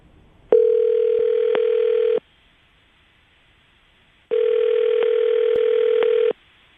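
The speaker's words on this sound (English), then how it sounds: "I'm going to dial the phone and get your second date update" A telephone dial tone plays while a call is dialled, two long steady buzzing tones of about two seconds each separated by a silent gap, clear and up close with no talking.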